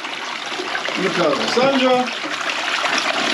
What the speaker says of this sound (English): Give her another flush.